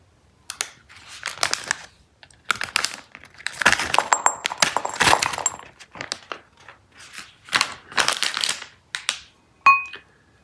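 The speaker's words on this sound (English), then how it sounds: "Let me pour this into a glass bowl so you can take a look." Tajin chili lime seasoning tipped into a glass bowl in several separate gritty, rustling bursts, with crinkly packaging and a light clink near the end, all close up and with no speech.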